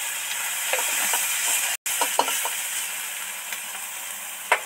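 Grated onion sizzles in hot oil with dried chilli and bay leaf, a dense continuous hiss with a few stirring scrapes, briefly cut by a split-second gap before the frying resumes.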